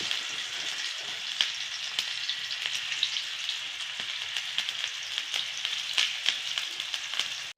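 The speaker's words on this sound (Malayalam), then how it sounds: "അതിൻ്റെ കൂടെ തന്നെ നമുക്കിത് മീനും കൂടി വറുക്കുന്നുണ്ട്" Fish coated in chilli, turmeric and masala frying in oil gives a loud, steady close-up sizzle with frequent sharp pops and crackles throughout, and no voices.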